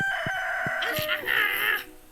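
A person imitates a chicken, giving a few short clucks followed by a drawn-out, wavering rooster-like crow, close and fairly loud over soft background music from a farming game.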